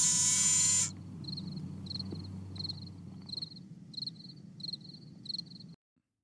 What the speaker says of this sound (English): Fake cricket sound effects.